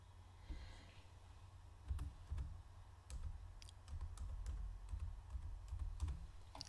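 Quiet, close keystrokes on a computer keyboard come in irregular bursts of clicks and taps, with short pauses between runs of typing.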